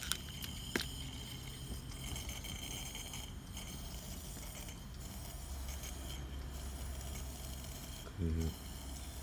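A Coleman 288A lantern burning its mantle with fuel: a steady broadband hiss of pressurized air and fuel, with a few light metallic clinks, under a voice speaking intermittently.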